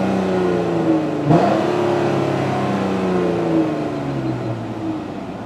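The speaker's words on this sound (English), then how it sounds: "Give the engine a few revs so you can hear it. It's got a very throaty exhaust to it," A 2015 Chrysler 200C AWD engine revs up with a throaty exhaust note, a loud steady drone that surges sharply once, then holds high revs before slowly falling away, with no talking.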